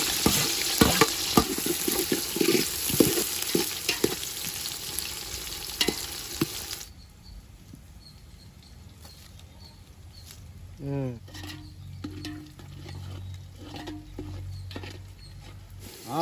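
Onions and green chillies fry in plenty of oil for a Nellore-style fish curry, with a loud, dense sizzle and stirring scrapes at first, then a quieter, sparser crackle with a few clinks toward the end.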